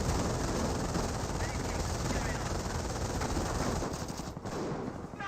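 Dense, continuous small-arms and machine-gun fire from the Company of Heroes strategy game, with Pioneers shooting at a Lieutenant. It rattles loudly and without a break for the whole stretch, with a voice faintly present beneath the clatter.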